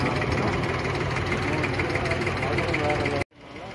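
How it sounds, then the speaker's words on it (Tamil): A tour boat engine in Dubai runs with a steady, loud low rumble and mechanical drone, cutting off abruptly near the end as the sound drops away, with voices faintly present. "போட் வந்து ஸ்டார்ட் ஆயிடுச்சு"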